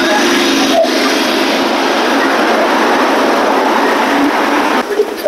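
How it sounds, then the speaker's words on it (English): A New York City subway train rumbles steadily and loudly nearby, a continuous roar of wheels and car noise with faint clatter, briefly easing near the end. "So we're going back on the subway."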